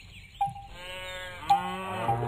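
Lowing calls from cows on a farm in a McDonald's simulation video game, three short bursts repeating over steady background game music, moderately loud and close.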